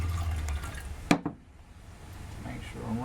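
Kombucha is poured into a jar: a short splash of liquid, a sharp knock, then a soft trickle that fades and builds again, heard close and quiet.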